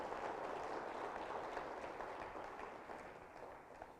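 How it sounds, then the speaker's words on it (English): Applause at a maritime industry forum in Manila as a presenter from a bunkering company is welcomed, a dense steady clapping wash that stays fairly even, then eases slightly toward the end. "Please, a round of applause for our lovely lady."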